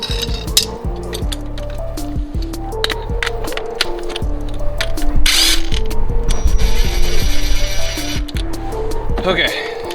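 A ratchet works on bolts during a front main seal job on a Honda D17 engine, clicking loudly in quick repeated bursts alongside metallic clinks while a person talks.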